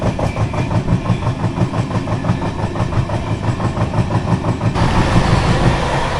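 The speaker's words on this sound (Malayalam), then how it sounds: "ട്രെയിൻ ഹിന്ദുപ്പൂരിൽ നിന്ന് വിടുകയാണ്" The Kondaveedu Express pulls away from Hindupur in Andhra Pradesh, its wheels beating a steady, rhythmic clickety-clack with a continuous loud rumble throughout.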